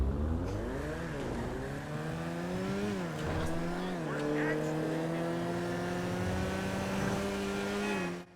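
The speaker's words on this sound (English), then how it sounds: "It may be one of my new favorite cars in terms of engine sounds." Karin 190z sports car engine in GTA Online, revving through gear changes with rising and falling pitch, loud and continuous for several seconds; a voice may murmur faintly underneath.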